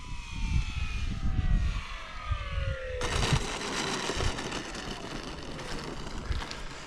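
Aircraft flying over Arnarvöllur airfield in Iceland, a steady, fairly loud engine drone with a descending whine that shifts sharply partway through as the plane passes close.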